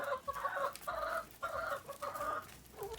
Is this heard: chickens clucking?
yes